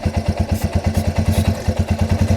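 A Yamaha TW200 motorcycle engine idles after a carburetor adjustment, a close, loud, steady thumping single-cylinder putter with a slight clatter and no voices.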